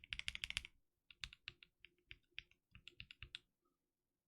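Lubed 400 Year Cream mechanical keyboard switches are typed on in quick bursts of crisp clacks, a flurry at first, then a steadier run after a short gap, and finally silence.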